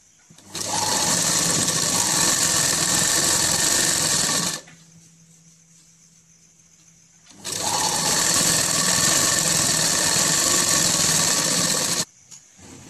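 A sewing machine runs in two long, loud, steady bursts while stitching palazzo pants, with a quiet pause between them and no talk.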